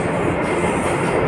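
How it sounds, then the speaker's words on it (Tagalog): Steady, loud rumble of a train riding the rails in Hong Kong, heard from on board, with continuous wheel and carriage noise and no voices. "nasa tren na si Manay"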